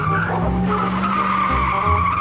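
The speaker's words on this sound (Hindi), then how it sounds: "चल भाई जल्दी से गाड़ी पीछे ले ले।" A car reverses with its tires skidding and squealing, a loud, steady scraping rush with engine drone that lasts throughout and swells briefly near the end.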